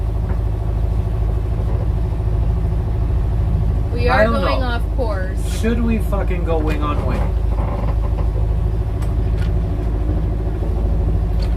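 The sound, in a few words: boat engine running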